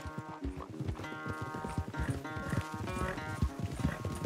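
Rapid clip-clop of a horse's hooves galloping steadily in a race in the video game Red Dead Redemption 2, loud and close, with a brief whinny and rhythmic thudding throughout.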